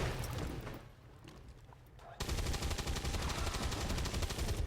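In the XCOM 2 video game a soldier fires a shot, a sudden loud burst of gunfire with rapid repeated cracks that breaks in after a quieter stretch and carries on to the end.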